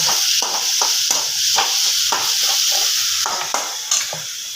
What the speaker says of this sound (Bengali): এবার পুরো মশলাটাকে খুব ভালোভাবে অনেকক্ষণ ধরে কষে নেব